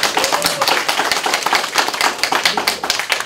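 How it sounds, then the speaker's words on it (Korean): Enthusiastic applause from an audience at a live talk show, dense rapid hand claps continuing steadily throughout. "박수 한번 보내드릴까요?"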